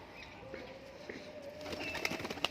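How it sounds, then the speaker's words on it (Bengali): Tethered pigeons kept for flying give soft, faint coos, then a burst of wing flapping and fluttering grows louder toward the end, heard alone without talk. "খুব সুন্দর সুন্দর পায়রা আছে।"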